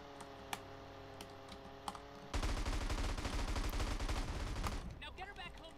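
Rapid gunfire shooting at a car in GTA San Andreas: a few light clicks first, then a dense, loud burst of shots for about two seconds before it trails off.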